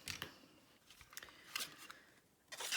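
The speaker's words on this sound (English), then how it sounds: "So where's my snips? I'm left-handed, so I'm going to cut this side off." Left-handed scissors snip through cardstock while a greeting card is trimmed, a few short crisp cuts with quiet pauses between them and a final cluster of snips at the end.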